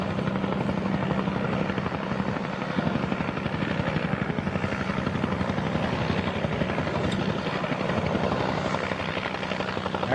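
A helicopter in the Cars and Copters video game comes in to land, its rotor thumping in a loud, continuous, even drone throughout.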